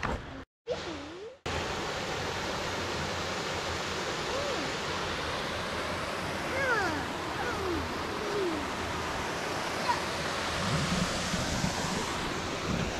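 Steady broadband rush of water flowing over the old Pennington Creek Dam during a 2022 drought, continuous and fairly distant, with a brief gap near the start and faint bird calls over the roar.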